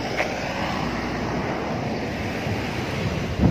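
Sea waves near Sumilon Island wash in a steady, moderately loud surf hiss mixed with light wind, with no talking.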